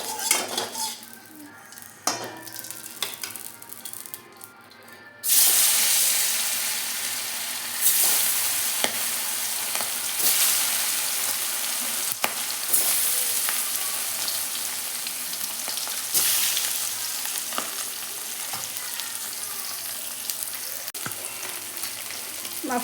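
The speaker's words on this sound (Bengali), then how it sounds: "তেল অনেক গরম হয়ে গেছে, এখন আমি এক একটা করে মাছ দিয়ে দেবো কড়াইতে।" Pomfret fish are slid one by one into hot oil in a wok, starting a loud, steady sizzle with clinks of a metal utensil against the pan and occasional stirring scrapes.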